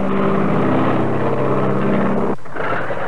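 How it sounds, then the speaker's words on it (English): A 1917-era training airplane's propeller engine drones steadily at a nearby airfield during takeoff, a loud buzzing hum that drops off sharply near the end. "the cadet took off alone for a short flight around the airfield"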